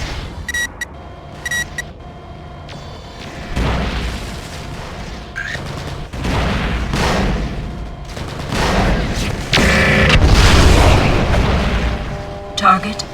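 Artillery shells from a MechWarrior 4 Vengeance battle land in a series of heavy booming blasts, loud and rumbling, among gunfire and mech combat noise, with radio-style voices talking.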